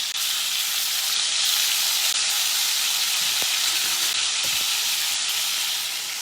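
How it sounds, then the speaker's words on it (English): Chicken pieces sizzle and fry in a hot pan with a small amount of fat for coq au vin, a loud, steady, close hiss that continues throughout with faint clinks of the pan. "So here's another piece going in"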